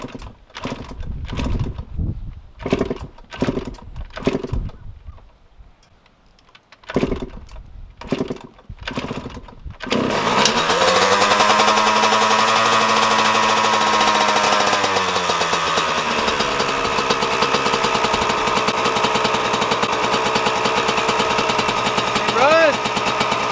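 A Yamaha YZ125 two-stroke dirt bike is kicked over several times in a rhythmic series of thumps, then catches and runs loud and close, holding a steady buzzing idle with a rev rising near the end.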